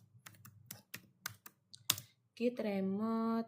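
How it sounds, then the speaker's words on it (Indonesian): Someone types a git command on a computer keyboard: a run of distinct, close keystroke clicks at an uneven pace, followed by a voice speaking once the typing stops. "kita pergi ke command prompt, kita ketik git remote"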